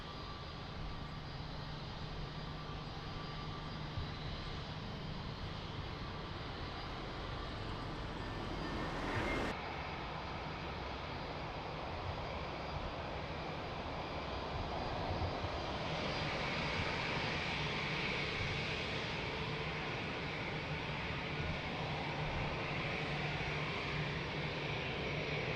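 An airliner engine roars steadily at Lisbon Airport, a loud continuous broadband rumble that holds for the whole stretch with a slight surge partway, heard alone without voices.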